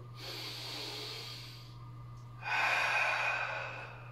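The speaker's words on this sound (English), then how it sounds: "Take a couple breaths here." A person breathing deeply during a hip, shoulder and ankle mobility stretch, one soft inhale followed by a louder, longer breathy exhale, close and quiet.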